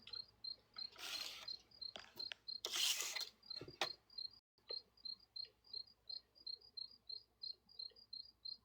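Crickets chirping in a steady pulsing rhythm of short, high, regular bursts, fairly faint, broken early on by a few louder rustling and handling noises.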